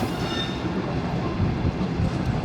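Passenger train rolling into Raiwind junction on Pakistan's main line, a steady loud rumble of wheels and carriages with faint squeal and clatter throughout, no voices.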